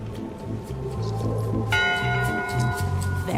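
A ship's bell in the video game Return to Monkey Island rings in a short series of clear metallic strikes, each leaving a bright ringing tail over a low background music bed, fairly close and distinct.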